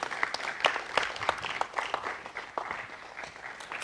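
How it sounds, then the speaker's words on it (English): Steady applause from a crowd, many hands clapping at once with a dense, continuous patter that holds its level throughout. "Let's keep the applause going, everyone."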